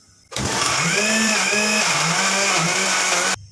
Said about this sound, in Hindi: ब्लेंडर के जग में मैंने डाल दिया, इसे मैं ग्राइंड कर लूँगी।